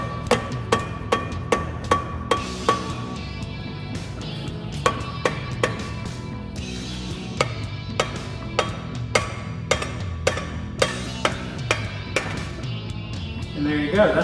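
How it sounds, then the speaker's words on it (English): Repeated sharp metallic hammer strikes on a Jeep WJ Dana 44/35 axle, ringing out at a steady pace, loud and close, continuing throughout. "just take your hammer."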